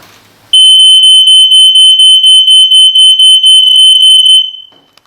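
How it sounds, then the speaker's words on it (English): A loud, piercing smoke alarm beeps in a rapid regular series of shrill pulses, then cuts off abruptly. "Remember to test the smoke alarm weekly and change the battery regularly."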